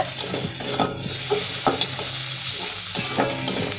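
Spice masala with slit green chilies frying in oil for a taro stolon (kochur loti) curry, a loud, close, constant sizzle with repeated scraping stirs and light clinks of the utensil against the pan.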